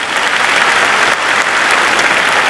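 Loud, dense audience applause from a large crowd, steady and continuous throughout with no pauses, clapping filling the whole stretch without any talk over it.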